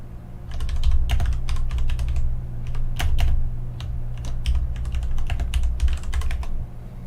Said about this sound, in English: I'm typing things